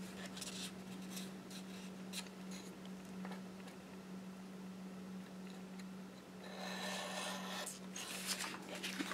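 Paper is cut by hand into a shadow frame flap, with close, quiet snipping and scraping strokes over a steady low hum, growing busier and rougher toward the end.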